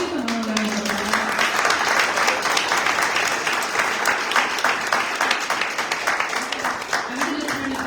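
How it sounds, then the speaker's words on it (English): A town hall audience at an arts education event breaks into sustained applause, dense clapping filling the room for several seconds, with voices calling out and talking beneath it near the start and end. "So let's give them all a round of applause."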